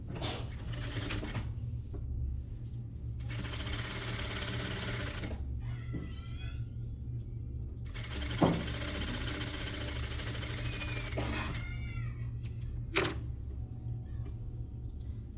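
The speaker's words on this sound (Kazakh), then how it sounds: "осы жерде тігіс түсіріп шығамыз" Sewing machine stitching a 1 cm seam on a fashionable suit, in two long, steady bursts of fast mechanical whirring, with quieter handling and fabric rustle between them and a few sharp clicks.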